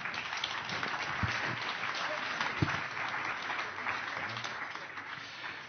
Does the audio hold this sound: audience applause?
yes